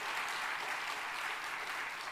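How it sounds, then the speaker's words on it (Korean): A church congregation at a revival service applauds, a dense, steady wash of clapping that fills the short moment evenly, with no voices standing out. "여러분이 담임 목사님에서 격려의 박수 한번 해주시길 바랍니다"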